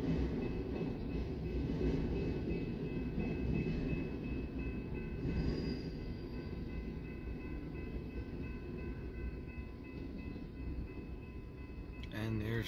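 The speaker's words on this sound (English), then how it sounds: "And there's the end of our northbound BNSF stacker" A northbound BNSF double-stack freight train rolls past in Fremont, Nebraska, its cars rumbling and clattering steadily and loudly at close range, with faint tonal wheel whine above, ending with a brief clank.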